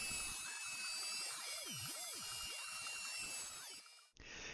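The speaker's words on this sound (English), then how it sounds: "Now go back to the router table and round the edges of each side you just cut." A high-pitched router table whines steadily, its pitch dipping and rising as it rounds the edges of cut wood, then cuts off abruptly near the end.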